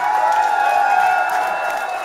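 A live club crowd at a show in London cheers and applauds steadily for the band's stand-in player, a continuous wash of clapping and whoops with a sustained tone ringing underneath.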